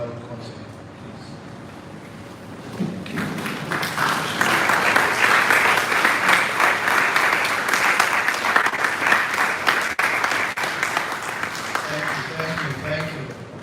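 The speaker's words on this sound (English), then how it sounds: "can we guys give a round of applause for the tributes that was there on behalf of the late Dr. Abdulai Conte" Sustained applause from an audience at an intercollegiate moot court competition, honouring tributes to the late Dr. Abdulai Conte; the clapping swells after a quieter start, stays dense and steady, then tapers slightly near the end.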